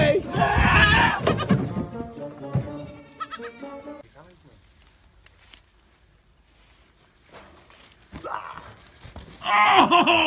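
Goat on a farm bleating loudly in two bursts, at the start and again at the end, with quieter animal noises and a voice speaking between them.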